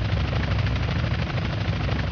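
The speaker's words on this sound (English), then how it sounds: "We got a chopper on our tail." Helicopter in the GTA video game: a loud, steady rotor thump and turbine whine throughout, with no speech over it.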